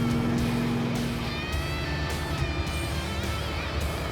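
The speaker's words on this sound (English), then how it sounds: "Oh, yeah, that car is loud." Loud car engine rumbling steadily close by, a broad low drone that stays heavy and continuous, with other road noise mixed in.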